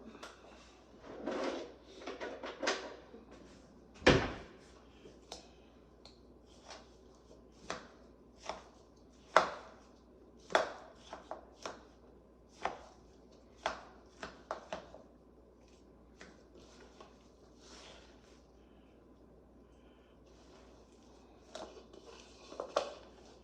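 Meatloaf mixture is mixed by hand in a bowl, giving a string of soft, irregular squelching thumps and knocks that are fairly quiet and close, with no talking.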